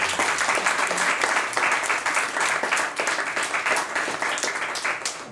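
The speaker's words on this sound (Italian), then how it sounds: "facciamo un applauso di benvenuto" Audience applause of welcome at a civic event honoring a local institutional figure, steady dense clapping from a sizable crowd filling the room, loud and sustained throughout without a break.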